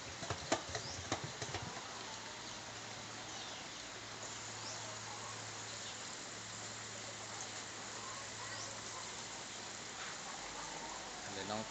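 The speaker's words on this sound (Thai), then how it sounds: "ช่วงนี้ฝนก็ตกอยู่นะครับ" Steady rain falls under a roof beside a potted upside-down tomato plant, a soft continuous hiss of drops heard faintly throughout with a few brief taps at the start.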